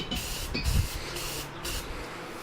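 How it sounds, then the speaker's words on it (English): Aerosol paint sprayed onto Ford F250 truck parts in short hissing bursts, several quick spurts followed by a longer steady hiss, close and fairly soft. "Get some coats of paint on these bad boys."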